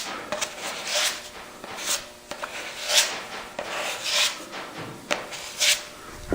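A squeegee spreads body filler across the panel of a 1937 Chevy in repeated rasping, scraping strokes, close and fairly loud. The strokes come in an uneven rhythm with short pauses between passes.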